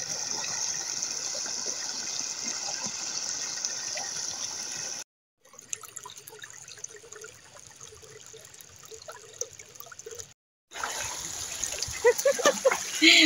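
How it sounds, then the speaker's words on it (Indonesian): Water gushes steadily from a breached irrigation channel into a rice field, a constant outdoor rush with splashy bursts that drops away briefly twice before returning. "Langsung masuk ke sawah airnya."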